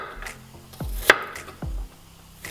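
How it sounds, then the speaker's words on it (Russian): A knife slices a halved garlic clove into thin pieces on a board, giving a few crisp, close chopping taps and thuds spaced out over a couple of seconds. "Разрезаем чеснок пополам. И на тонкие ломтики нарезаем."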